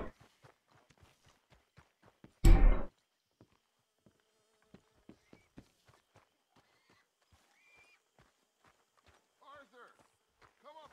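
Footsteps walk on foot into a camp in the Red Dead Redemption 2 video game, an even run of close, crisp steps with one loud burst early on and faint voices near the end.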